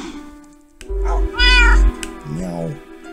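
Cat meows from the video game Minecraft, two or three close, clear, drawn-out mews in quick succession over a quiet background.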